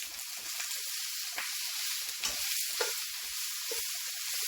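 Tofu and vegetables sizzle steadily in a frying pan for a stir fry, a constant loud hiss broken by occasional scraping stirs, close and without talk.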